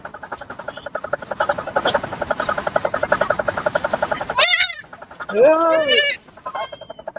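Young native goat kids at a village livestock market bleat in short, wavering cries, close by, over a steady rhythmic chatter of background noise and bustle.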